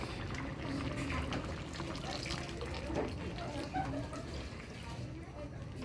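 Coconut milk is poured into a cooking pot of banana heart and mung bean stew with salt and shrimp cubes, a continuous close splashing gurgle under someone speaking.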